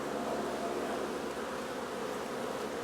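Honeybees buzzing steadily while being moved from a nucleus box into a hive body with a Kona queen, a dense continuous hum close by, with no voices.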